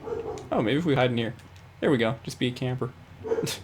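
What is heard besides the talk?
pet dog barking in the background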